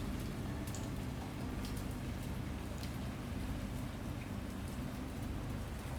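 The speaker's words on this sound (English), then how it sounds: "Let's close it out with a little bit of Oklahoma City in the rain." Steady rain falling in Oklahoma City, a dense even hiss of drops hitting surfaces with scattered brighter patters, heard alone without voices.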